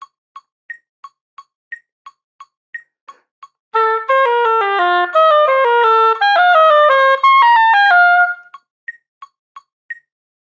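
Oboe playing the opening of ATSSB All-Region Etude #18: a legato run of clear reedy notes lasting a few seconds, framed before and after by steady, evenly spaced metronome-like clicks.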